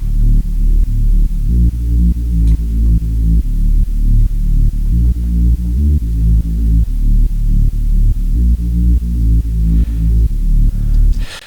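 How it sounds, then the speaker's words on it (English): A Reese bass synth with its filter macro held fixed plays a repeating run of loud, sustained low notes in a steady rhythm, each pulse evenly spaced, with no voice over it. "And the thing is that this filter macro is being automated. Let's listen to it just static."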